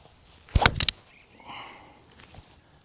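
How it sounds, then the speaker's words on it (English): Golf iron shot striking the ball on a course, a sharp close crack followed by a brief second impact, then quiet outdoor air. "Get you an iron shot in."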